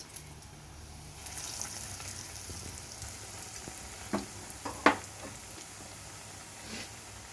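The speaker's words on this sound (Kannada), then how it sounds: "ಸ್ವಲ್ಪ ಹುಷಾರಾಗಿ ಕರಿಬೇಕು, ಆ ಮಖಕ್ಕೆಲ್ಲ ಸಿಡಿಯುತ್ತೆ ಇದು." Potato vada, a gram-flour-battered potato fritter for vada pav, frying in hot oil with a steady soft sizzle throughout and a few sharper crackles and spits partway through, close by with no talking.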